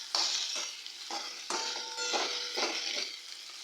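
Mutton masala for an onion-free kaliya is stir-fried in a pan with oil, giving a loud, close sizzle broken by rhythmic scraping strokes about every half second. No voices are heard.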